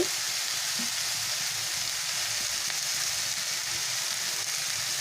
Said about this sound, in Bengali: এটাকে আমি ঢাকা দিয়ে এখন ভালো করে চার মিনিট ধরে কষে নেব